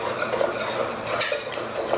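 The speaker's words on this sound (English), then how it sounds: "We're gonna slowly whisk it in." Metal whisk scraping and clinking against a pot while stirring dairy-free cheddar broccoli soup with onions, a steady rapid rattle close up with no talking.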